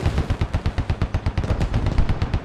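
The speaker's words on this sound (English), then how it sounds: "The telltale sign for a destroyed engine is a loud, sparking, crackling explosion." Destroyed vehicle engine blowing up in the military video game Squad, a loud, rapid crackling burst of sharp pops and bangs running continuously, close and dense like sparking gunfire.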